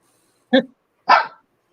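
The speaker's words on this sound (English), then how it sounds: "right now, I know what she's barking at" A pet dog indoors in an apartment gives two short, sharp barks about half a second apart, close and loud, with silence around them and no talk.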